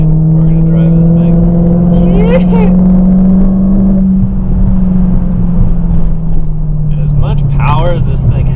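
A 2019 Dodge Challenger SRT Hellcat Redeye Widebody drives along with a loud, close, steady engine drone that shifts slightly in pitch, layered with whining tones and rushing road noise.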